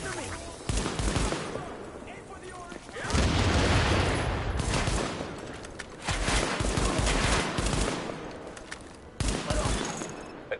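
Sustained bursts of rapid gunfire from a firefight in Tom Clancy's The Division, dense and loud in several waves across the stretch, with brief lulls between volleys.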